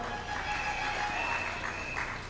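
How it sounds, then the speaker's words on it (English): Crowd applause at a UNC local government election presentation in Couva South honoring a Member of Parliament: a steady, dense wash of clapping throughout, moderately loud with a faint tonal hum beneath. "Let's give him a round of applause"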